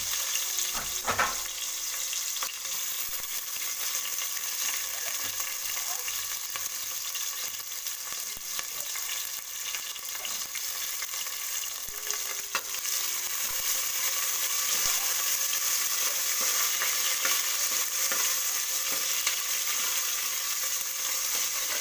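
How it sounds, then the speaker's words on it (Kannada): Onions sizzling and frying in hot oil with mustard seeds and garlic in a pressure cooker, a steady, fairly loud hiss that runs continuously with faint stirring clicks on top. "ಲೈಟಾಗಿ ಈರುಳ್ಳಿ ಫ್ರೈ ಆಗಿದೆ."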